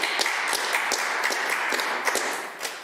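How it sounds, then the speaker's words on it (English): Applause breaks out in the Legislative Assembly of Alberta during an evening sitting, with steady, brisk clapping from many hands and a few sharp individual claps standing out, continuing evenly before tapering slightly at the end. "Thank you, that's worth an applause."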